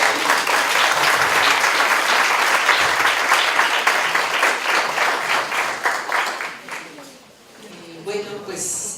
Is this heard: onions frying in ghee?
no